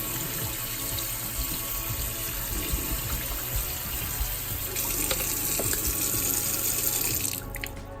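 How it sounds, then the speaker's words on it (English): Kitchen tap water pouring steadily into a strainer of overnight-soaked cashews, a continuous close splashing rush that runs for about seven seconds before the flow is cut off. "we've let our cashews soak overnight. Just give them a quick rinse."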